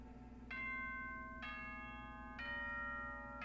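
The school broadcast chime in Danganronpa 2 rings out as three clear, sustained bell tones in sequence over a steady low hum, each note ringing on until the next.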